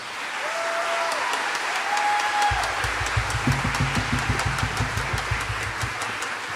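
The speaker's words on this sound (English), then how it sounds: "Let's give them a round of applause." Audience applause at a spring mariachi concert, steady clapping from a crowd filling the room, with a low engine-like rumble and some faint tonal sounds underneath.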